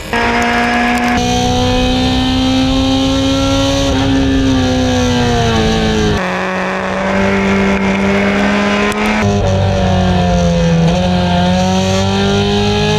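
Race cars, including the number 133 Myriad Motorsports car, roar loudly and continuously around a racetrack, engine pitch rising and falling with gear shifts and a car passing close by.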